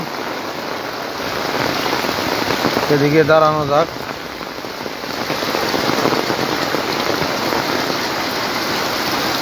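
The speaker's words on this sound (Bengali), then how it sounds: "হঠাৎ করে বৃষ্টি বেড়ে গেল" Heavy rain pours steadily in Cumilla after a light drizzle, a dense continuous hiss close around, with a person speaking briefly partway through.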